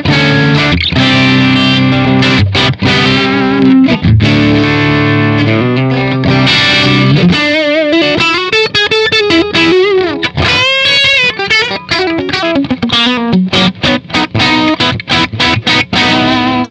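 Distorted electric guitar played through an edited amp profile on a Tank-G multi-effects unit, loud and continuous with sustained chords giving way to bending, vibrato-laden lead lines and choppy notes, with no talking.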